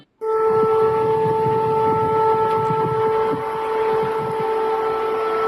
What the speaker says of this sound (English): An air raid alert sound in Odessa.